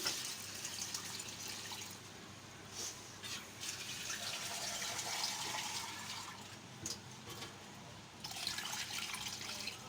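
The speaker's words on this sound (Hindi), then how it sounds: "अब मैं इसके अंदर पानी ऐड कर दूँगी।" Water pours and splashes into a cooking pot for pulao with ginger-garlic paste, running steadily with gurgling and a few brief pauses, no speech.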